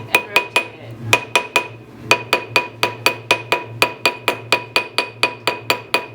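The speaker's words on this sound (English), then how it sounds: "I'm going to use a plastic mallet and tap it and rotate it" A plastic mallet taps a metal ring on a tapered steel ring mandrel for soldering work, giving steady, close, bright knocks at an even rhythm, about four per second, with a short pause after each few strokes while the ring is turned.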